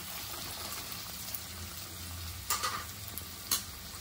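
Dal tadka cooking in a pan gives a steady, close sizzle and crackle, broken by two sharp clinks of a utensil against the pan near the end.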